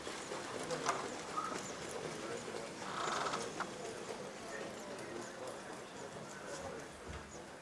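Hooves of horses clip-clopping at a horse sale qualification in Caen, steady faint clopping over a busy outdoor murmur, with a brief whinny-like call and occasional bird sounds in the background.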